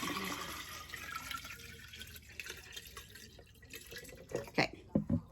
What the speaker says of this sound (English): I'm going to take my jar and I'm going to put some water in it.